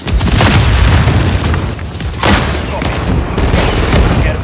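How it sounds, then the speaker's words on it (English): Explosion from a remote turret being destroyed in Call of Duty MW3 free-for-all, a loud sustained booming blast with rumbling bursts and gunfire-like pops filling the whole stretch. "Remote turret destroyed."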